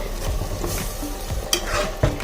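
Steady crackling sizzle of tofu in a hot clay pot, with a couple of sharp clinks and stirring noises near the end.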